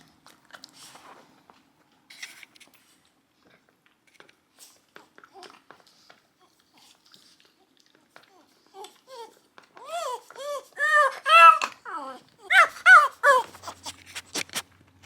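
A dog whimpers over a new treat, a run of short, high, rising-and-falling whines close by, coming after quiet rustling and soft movement noises.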